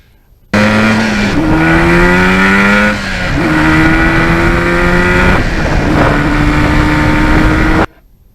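Yamaha RD400 motorcycle engine revving hard and shifting up through the gears, a loud, close, continuous two-stroke drone whose pitch climbs, drops at each gear change around the third and sixth seconds, then climbs again, with wind noise underneath.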